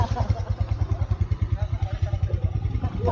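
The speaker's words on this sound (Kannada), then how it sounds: "ಗಾಡಿ ಸ್ಟಾರ್ಟ್ ಆಗ್ತಿರಲಿಲ್ಲ. ಇದೇ ಸ್ಟಾರ್ಟ್ ಆಯ್ತು ನೋಡ್ರಿ" A motorcycle engine runs close by with a fast, throbbing low pulse that stays steady and loud throughout, after a struggle to get it started on a hilly road trip.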